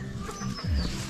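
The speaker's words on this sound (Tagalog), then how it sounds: "Manok dyan sa loob." Chickens cluck briefly inside a backyard house enclosure, a short low throaty burst that swells near the end amid quiet background.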